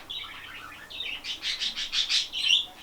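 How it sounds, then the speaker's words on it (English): A pet cockatiel indoors chirps in a run of quick, bright tweets that grow louder and more insistent toward the end, close by and with no talking. "this is my first cockatiel I've ever owned"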